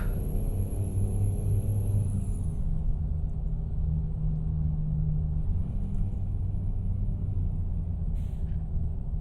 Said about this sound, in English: it's nice to hear the engine, the loud engine that you pretty much put in the truck because it's loud